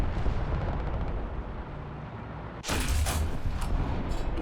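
A tank cannon fires in War Thunder, a single sudden loud blast that cuts through steady engine rumble and then rolls on as a broad roaring boom.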